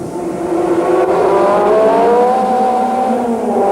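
An Opel Manta rally car engine screams at full throttle on a rally stage in Zimbabwe, a loud, steady high wail with rising pitch sweeps, sustained and unbroken throughout.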